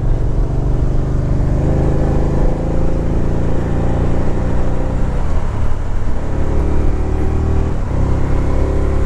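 A 2012 Can-Am RT-S Spyder three-wheeler is driven. Its engine hums loud and steady, close up, over a constant wind and road rumble with small shifts in pitch.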